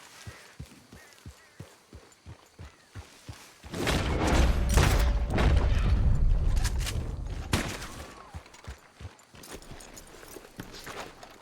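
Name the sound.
gunshots from the video game Red Dead Redemption 2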